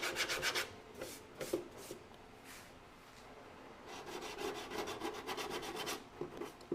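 Body filler being knocked down with 80 grit sandpaper on a car's dash and nose, producing coarse rasping strokes in rhythmic bursts with a brief lull midway, fairly close and unaccompanied by speech.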